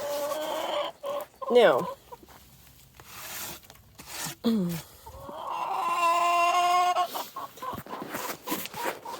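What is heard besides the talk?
chicken clucking in a coop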